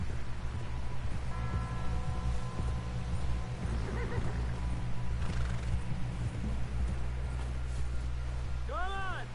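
Horses in the video game Red Dead Redemption 2 clop along with steady hoofbeats, and one gives a short whinny near the end, under game dialogue and background sounds.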